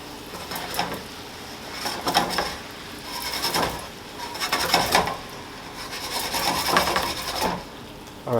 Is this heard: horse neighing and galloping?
no